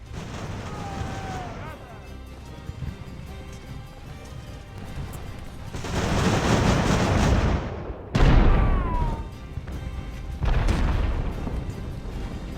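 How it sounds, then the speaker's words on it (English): A two-gun cannon battery fires in Ultimate Admiral: Age of Sail, three heavy booming volleys that each roll out into a long crashing rumble, separated by quieter stretches where someone talks. "Both cannons are now set up into a proper firing battery next to each other."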